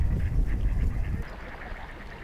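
Geese or ducks feeding on the tidal mudflats of Suncheon Bay give soft, fairly distant honking and quacking calls, clustered in the first half and then fading to a quieter outdoor hush.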